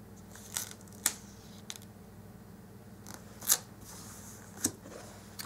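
Scissors snip through sticker paper at a planning desk, four or five sharp, crisp cuts spaced irregularly over a quiet background, close and fairly loud with no talking.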